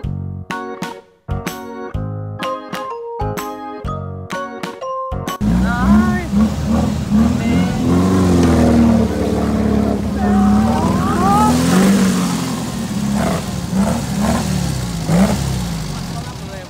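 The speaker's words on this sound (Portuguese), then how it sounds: "Vamos ver o carro passando." A car rolls past on a sandy road at the Jericoacoara beach resort, its engine noise swelling and holding steady for several seconds as people chatter and exclaim nearby.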